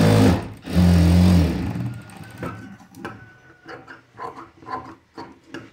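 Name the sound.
sewing machine stitching a blouse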